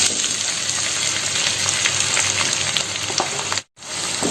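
Three chopped onions sauté with a teaspoon of fennel seeds in hot oil for mutton kurma, sizzling steadily and loudly up close, with a brief near-silent gap just before the end.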